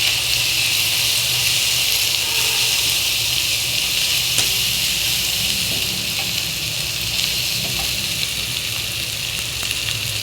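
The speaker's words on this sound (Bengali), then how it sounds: "ভালো করে মশলাটা তেলের ভিতরে কিছুক্ষণ ভেজে দিচ্ছি।" Ground turmeric and coriander powder fry in hot oil, giving a steady, close, even sizzle that holds without a break.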